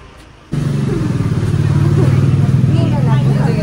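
A motorcycle or scooter engine rumbles in abruptly and keeps droning close by, steady and loud throughout, with people's chatter mixed in underneath.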